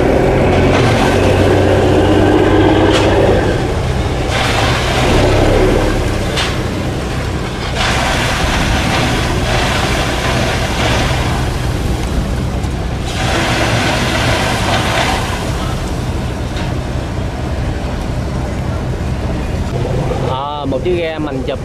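A small Bình Định fishing boat's engine revving hard at full throttle near Vũng Tàu, a loud continuous roar with wind and water noise that holds steady throughout.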